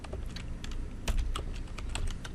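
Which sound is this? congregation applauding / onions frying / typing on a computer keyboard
typing on a computer keyboard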